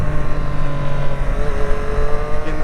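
A 2021 Triumph Street Triple RS motorcycle at speed with its quick shifter and auto blipper, giving a loud continuous engine drone with a pulsing, fluttering edge and wind rush over it.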